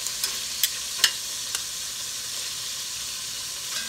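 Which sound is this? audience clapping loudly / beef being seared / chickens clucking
beef being seared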